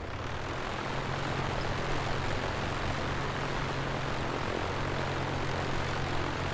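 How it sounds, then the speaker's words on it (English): An Aerostar aircraft engine running, a loud and steady droning roar with a low throbbing hum that holds constant throughout and has no talk over it. "Why is the engine running?"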